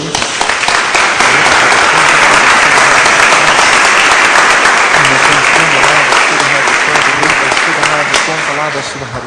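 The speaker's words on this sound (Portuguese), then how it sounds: "Dê uma salva de palmas a Jesus." Congregation in a Portuguese-speaking church service clapping loudly for Jesus, a thick, sustained roar of applause close up that fills the whole stretch before easing slightly at the end.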